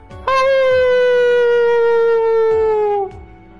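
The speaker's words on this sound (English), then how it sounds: "Kamaru howled towards the shrine. The other dog's return with a howl was from every direction." A dog gives a single long, loud, close howl at a quiet shrine in the video game Persona 3. It holds one steady tone that slowly sinks in pitch for about three seconds before it fades, with faint thumps underneath.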